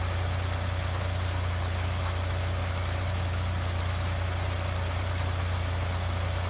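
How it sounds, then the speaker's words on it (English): A New Holland T7550 tractor engine in Farming Simulator 2013 idles with a steady low diesel drone, constant and close, with no speech over it. "And here comes the tractor for its final leg."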